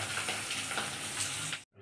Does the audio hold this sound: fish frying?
yes